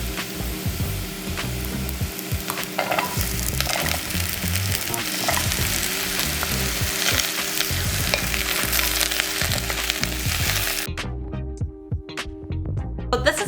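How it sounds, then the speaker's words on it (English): Potatoes and carrots sizzle loudly in hot oil in a curry pot while a utensil scrapes and stirs in irregular knocks; the frying hiss suddenly drops away near the end, leaving a low hum. "let's go ahead and add in our potatoes and carrots"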